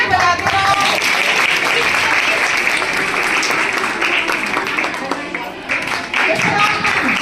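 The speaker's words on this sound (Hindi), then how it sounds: "तालियां बजाते रहो।" An audience applauds continuously and loudly for honoured schoolgirls at a government girls' higher secondary school ceremony, with a voice speaking over the clapping.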